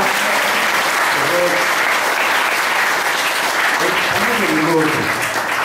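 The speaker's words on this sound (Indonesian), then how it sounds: "Tepuk tangan dong." Sustained applause from an audience fills the whole stretch, a dense even wash of clapping, with some voices faintly audible beneath it.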